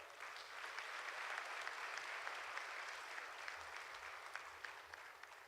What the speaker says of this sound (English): And I invite an even bigger round of applause.